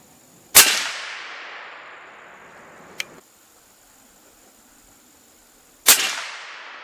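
Two sharp, loud rifle shots from a suppressed .338 Weatherby RPM, about five seconds apart, each trailing off in a long echoing decay, with a faint click between them.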